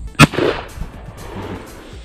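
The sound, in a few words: shotgun firing at clay target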